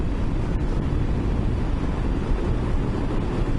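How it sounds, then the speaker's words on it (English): Steady, loud wind roars and buffets against the microphone while riding a motorcycle at about 50 mph, a continuous rushing noise with no voices. "it is pretty windy today"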